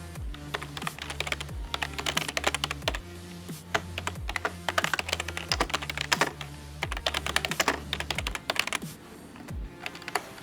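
Rapid, continuous typing on a computer keyboard while writing Java code for a number guessing game, with dense clicky keystrokes in quick bursts throughout, close and clear with no talking.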